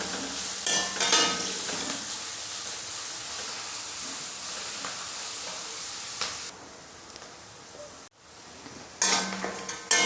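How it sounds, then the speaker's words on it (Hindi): Cabbage and carrots stir-frying in a hot pan for vegetable Manchurian fried rice, a steady loud sizzle with bursts of stirring and scraping, briefly dropping near the end before the frying surges again. "पत्ता गोभी, और साथ ही गाजर भी इसी में डाल देंगे। तो इनको थोड़ा सा फ्राई कर लेंगे।"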